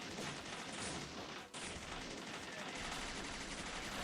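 A bot is hit by continuous, loud gunfire in the video game Shots Fired, a dense unbroken barrage lasting several seconds.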